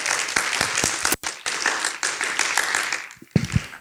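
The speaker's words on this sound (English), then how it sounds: "clap your hands" An audience clapping hands at a public lecture, with a few sharp isolated claps standing out over scattered group clapping, briefly dropping out near the middle before resuming unevenly.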